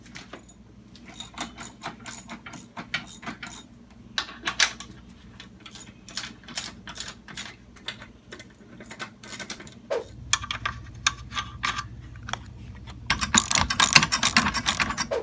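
Ratchet wrench tightening the bolts on a Chevrolet Trailblazer front seat during a seat repair, a long run of quick, close clicking strokes in bursts that grow busier and louder near the end.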